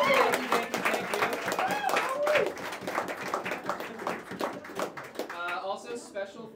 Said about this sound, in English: I want to ask just for one more round of applause for all, I think, 15 artists who performed tonight.